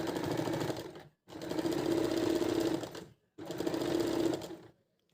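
Sewing machine running short stitch lengths along a collar slit, three bursts of steady rapid whirring and needle chatter separated by brief pauses, close and clear.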